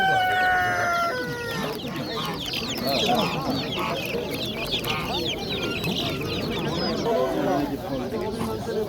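At a poultry market, many chickens and roosters cluck and crow in a dense, continuous din, alongside ducks for sale, while people talk and bargain throughout.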